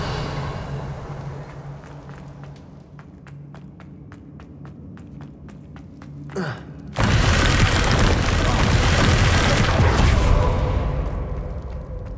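The Revelio spell in Hogwarts Legacy: a run of rhythmic ticks, then a rising whoosh and a sudden loud, sustained magical boom that fills the space for several seconds before fading slightly.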